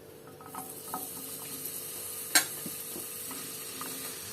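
An onion and spice mixture for a spicy chicken dish hits a hot pan with a steady, moderate sizzle, broken by a few stirring scrapes and one brief clatter.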